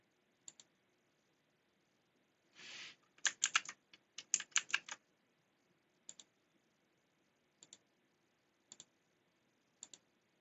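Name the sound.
computer mouse clicking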